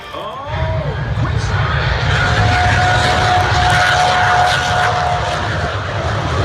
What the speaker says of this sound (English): This car has a jet engine and it tried to race a plane at an air show.